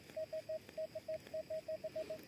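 Metal detector signalling during a coin hunt: a rapid run of about a dozen short, clipped identical beeps in uneven rhythm, clear over a faint steady background hiss.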